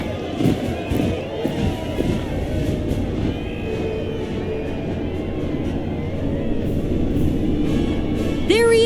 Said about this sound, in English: Can you even hear me over this crowd?